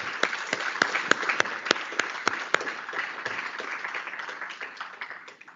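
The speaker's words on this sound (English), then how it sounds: "Let's give them a big round of applause" A crowd applauds steadily at a university valedictory ceremony at IIT Bhubaneswar, with sharp individual claps standing out near the front over a dense, even wash of hand-clapping that fades slightly toward the end.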